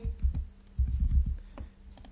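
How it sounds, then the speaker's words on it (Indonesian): Soft keyboard typing up close, a few short clusters of quick keystrokes with brief pauses between them, no voices. "Maka adik-adik juga bisa mengetik di sini."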